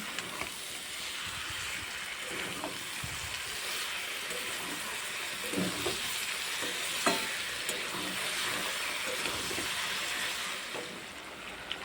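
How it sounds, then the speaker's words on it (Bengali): Amla pickle with sugar is stirred in a pan, giving a quiet, continuous low sizzle broken by irregular scraping and tapping strokes of a spoon, up close and alone without speech. "এবার চিনিটা দিয়ে আবার নাড়াচাড়া করব"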